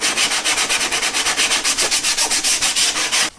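Tear-out on a homemade table saw throat plate being sanded by hand, about twenty quick, even back-and-forth rasping strokes in a steady rhythm, loud and close with no voices.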